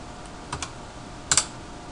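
Brief computer keyboard typing, a few soft clicks followed by a sharper double keystroke, close and isolated in a quiet room.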